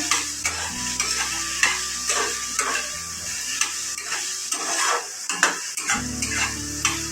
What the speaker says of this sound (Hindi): अच्छे से प्याज पूरा अच्छे से फ्राई कर लेना